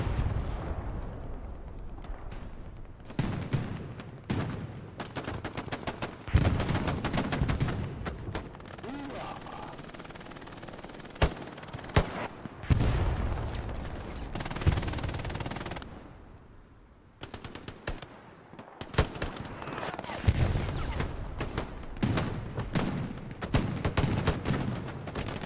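Artillery blasts and bursts of machine-gun and rifle fire from a competitive match of the World War II shooter Hell Let Loose, loud and nearly continuous with heavy booms and rattling volleys throughout.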